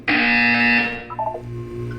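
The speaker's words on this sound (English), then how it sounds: "You will hear a buzzer." A harsh, loud buzzer blares in the video game Portal 2, then cuts off into softer electronic tones and low hum.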